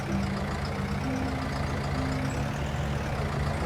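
A tractor engine in the video game Farming Simulator 19 drones steadily and low at moderate level, with no talk over it.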